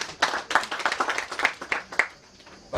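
A room full of people at a Rotary Club installation ceremony breaks into brisk clapping, a few seconds of close, uneven handclaps that taper off, followed by one last clap.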